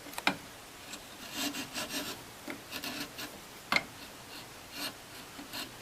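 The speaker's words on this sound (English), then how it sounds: "so we take that off with a chisel." A chisel pares leftover wood from a hand-cut lap joint, giving quiet, irregular scraping and rasping strokes with a couple of sharper clicks.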